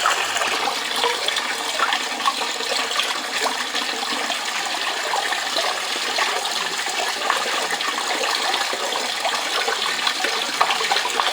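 Water swirls and sloshes continuously in a gold pan at Reedy Creek in North East Victoria, a steady close rushing wash with no speech.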